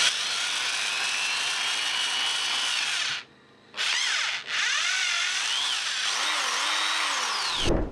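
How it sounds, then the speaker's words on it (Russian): A power drill bores a hole through a plastic end cap, a loud steady whine running on with a brief pause partway, then spinning up again and winding down at the close. "В одной из торцевых крышек сверлю отверстие для установки органа управления."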